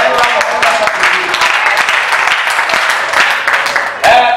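A church congregation applauds in a steady, loud wash of clapping with voices mixed in, ending in a sudden louder burst.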